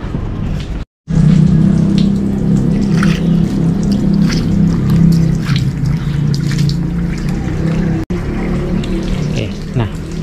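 Water runs steadily while something is rinsed during cleaning, a continuous close trickling wash that breaks off briefly near the start and again for an instant later on.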